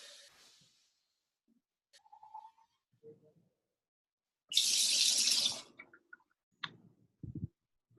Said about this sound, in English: I'm just gonna get myself a glass of water.